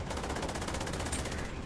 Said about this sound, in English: So gunfire up there